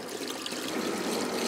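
A hot water tap runs in a steady, moderately quiet stream of splashing, trickling water, unbroken and with no voices over it.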